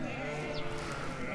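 Sheep bleat in a flock being watered on a Turkish farm, overlapping calls merging into a steady, close chorus across a brief stretch.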